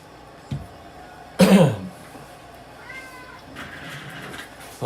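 A house cat lets out a loud, close, drawn-out meow asking for food, followed by quieter faint mews and a few small knocks.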